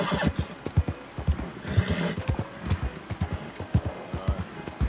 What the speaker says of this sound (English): Take it easy on the old horse so he can catch up his breath, you know?